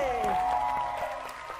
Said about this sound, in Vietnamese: Vỗ tay thiệt lớn nha mọi người ơi.